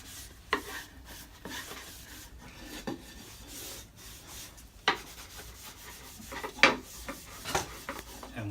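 A cloth rubs and wipes excess stain off wood on a wine bottle holder, giving soft scrubbing strokes with a few sharper swipes, close and fairly quiet.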